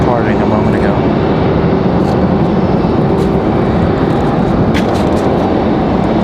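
Two United airliners spool up at Raleigh-Durham International, a broad, steady jet roar filling the air without a break, with sharper whines rising briefly over the constant rumble.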